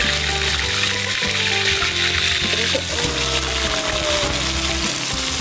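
Steady sizzling and crackling of onions frying in hot oil in a wok, loud throughout with a low hum underneath.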